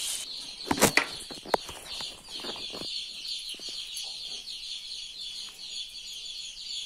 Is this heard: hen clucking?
yes